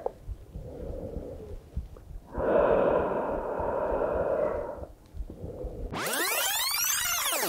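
Slow, audible breathing during a guided relaxation exercise with a professional cuddler: a long, noisy inhale and exhale, close to the ear, followed by a steady airy rush.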